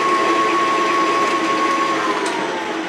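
An electric mixer whips hot chocolate cookie batter in a steady, continuous motor whine that holds evenly for a few seconds, close and fairly loud, with no talking.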